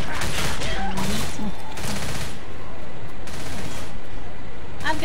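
Video game gunfire from Left 4 Dead, bursts of rapid shots repeating through the scene, loud and close, with people talking intermittently over the shooting.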